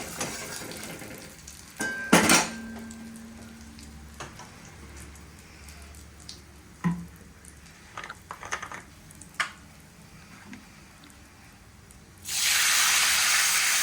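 Panch phoron five-spice in hot oil with fried fish gives faint scattered crackles and pops, then a sudden loud, steady hissing sizzle takes over at the end.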